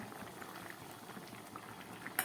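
Moong dal bubbling in a pot, a soft continuous simmering burble with faint patter, quiet and steady, then a brief louder clink near the end.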